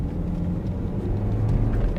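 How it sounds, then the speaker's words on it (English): A low, steady engine rumble with a slightly rattly, gravelly, truck-like diesel character from a used BMW X5's 2-litre turbo diesel, heard from inside the vehicle with no talking. "a little rattly, kind of truck-like. Not the most refined unit"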